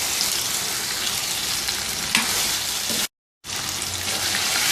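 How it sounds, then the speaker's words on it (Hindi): Chicken pieces frying until golden for a Pakistani biryani, a dense, loud, continuous sizzle close up, broken by one brief silent gap. "चिकन शामिल करें और चिकन को अच्छी तरह से इसमें गोल्डन कर लें"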